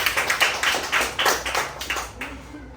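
Schoolchildren in a classroom clap for their classmates, a quick run of sharp, evenly spaced claps from a small group, close and fairly loud, fading out over a few seconds.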